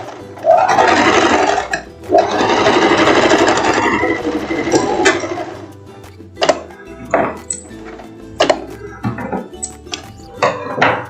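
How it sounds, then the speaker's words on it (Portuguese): A sewing machine stitches a straight finishing seam on a short lace dress, humming loudly for a few seconds in two runs, then stopping. Sharp clicks and light clinks follow at irregular intervals. "Você vem passando agora uma costura reta aqui para fechar, fazer o acabamento."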